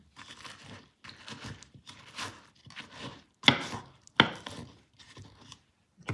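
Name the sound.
mixing plantain for mofongo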